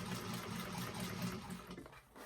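A sewing machine runs a continuous stitching seam across glittery vinyl for a handbag, a steady close mechanical whir that slows and fades near the end.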